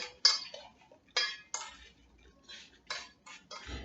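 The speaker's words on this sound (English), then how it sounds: "all I'm going to do is mix this through the apple" A spoon clinks and scrapes against a bowl while cinnamon is mixed through cut apples. Sharp, close taps recur irregularly, with quiet gaps between them and no talk.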